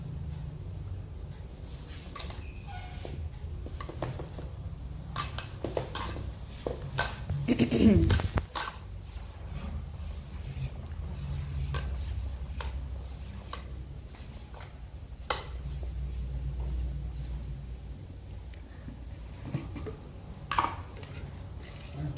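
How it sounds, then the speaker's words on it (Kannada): Utensils clatter and tap in a bowl as raw salted snack ingredients are mixed at home, soft scattered clinks beneath a low steady hum and occasional talking. "ಸ್ವಲ್ಪ ಮಿಕ್ಸ್ ಮಾಡ್ಕೋತಾ ಇದ್ದಾರೆ ರಾ ಆಗೇನೆ"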